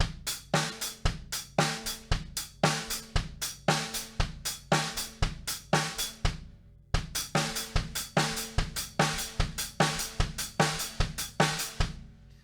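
Drum kit linear pop groove at a quicker tempo, bass, hi-hat, snare and hi-hat struck one at a time in a tight, even stream of crisp hits, with a brief pause midway.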